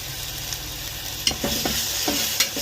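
Sautéing in a pan as a little ginger-garlic paste and turmeric go into the fish curry base, with a steady low sizzle and several distinct clinks and scrapes from stirring.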